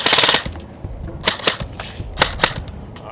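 A Classic Army Skirmish Line airsoft gun, under a torture test, fires a quick opening burst, then a string of sharp, close, single mechanical clacks at irregular intervals.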